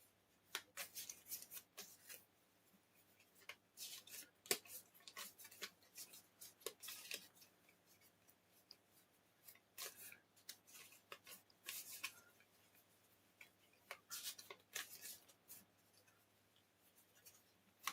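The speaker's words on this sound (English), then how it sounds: "I'll go ahead and start shuffling." Magic: The Gathering collector pack cards are shuffled by hand in quick bursts of crisp riffling and snapping, separated by short quiet pauses.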